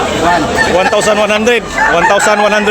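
Roosters and chickens at a gamefowl sale, with loud nearby crowing and clucking overlapping with people talking in the background.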